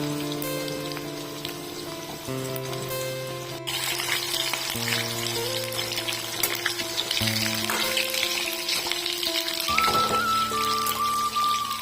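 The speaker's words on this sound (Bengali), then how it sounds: "আলুগুলো আমি নুন হলুদ ছাড়াই জাস্ট তেলে একটু ভেজে নেবো লাল লাল করে।" Potato pieces frying in hot oil in a pan without salt or turmeric, a steady close sizzle and crackle that grows a little busier halfway through, with no talk.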